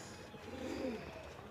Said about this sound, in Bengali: এটা হচ্ছে ফিমেল পায়রা